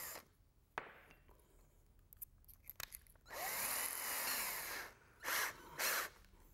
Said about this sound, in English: You can do it with the drill.